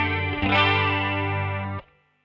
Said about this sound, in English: This is a Boss CE1, a chorus ensemble, obviously